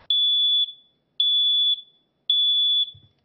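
A smoke detector sounds three loud, piercing high-pitched beeps, each about half a second long and evenly spaced with short silences between, alone with no voices.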